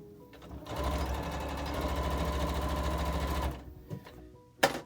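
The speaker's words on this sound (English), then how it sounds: "Be sure to back stitch at the beginning and the end." A sewing machine stitches PUL fabric, running steadily at close range for about three seconds before stopping, followed by a couple of brief handling knocks; no one speaks.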